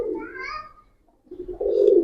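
Domestic pigeons of fancy breeds such as army, lalpatti, silver, khaki and pangkhi, kept for sale, coo in low throaty bursts, one run fading out, then a brief pause and a louder, fuller stretch of cooing close by.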